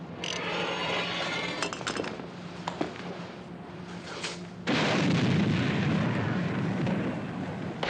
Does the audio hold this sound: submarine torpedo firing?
yes